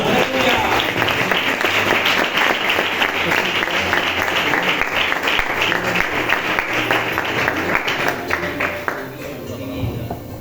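A Spanish-speaking church congregation applauds during a sermon, with rhythmic, fairly loud group clapping that keeps a steady pulse and fades slightly at the end, while voices call out over it.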